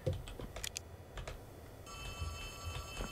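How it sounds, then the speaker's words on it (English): Phone ringing in the Poppy Playtime Chapter 3 game, a sustained electronic ring that starts partway through over scattered clicks and taps, moderately loud, no voices. "There's a phone ringing"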